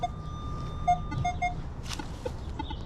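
Short electronic beeps from a metal detector, reading 59 to 60, sound several times in a quiet outdoor setting at an 1800s home site, with steady tones and a light rustle partway through.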